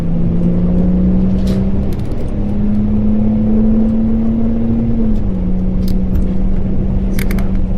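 A high-mileage BMW X5 E53 accelerates with a loud, steady engine drone heard from inside the car. The pitch rises gradually and then dips as a gear changes, with faint road noise beneath.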